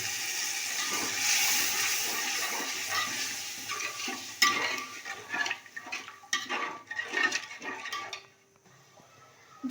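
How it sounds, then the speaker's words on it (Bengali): Water is poured into a pot of chicken dum biryani and stirred, a gushing splash that settles into scraping and clinking of a spoon against the vessel before quieting. "এবার জল দিয়ে দেবো এর মধ্যে"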